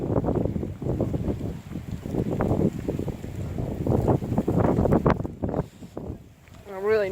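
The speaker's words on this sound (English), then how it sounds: "That wind is like almost paralyzing a little bit." Strong gusting wind during a snow storm in Georgia buffets the microphone outdoors in a continuous, roaring rush that rises and falls, with a person talking over it.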